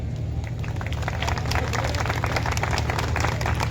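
An audience at a public gathering claps together in steady, dense applause with no break, over a low constant hum.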